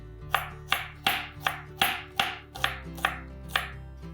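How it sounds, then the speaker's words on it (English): A knife slices onions for birista on a cutting board in about ten crisp, evenly spaced chops, each a sharp thud with a short crunchy tail, close and clear over a faint steady background hum. "Or you can just slice it here itself and use it for your Birista."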